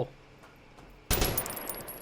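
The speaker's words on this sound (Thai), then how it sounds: "เฮ้ย มีคนยิง" Burst of gunfire in a Thai zombie survival game, a sudden loud crack followed by sustained rattling shots after a quiet stretch.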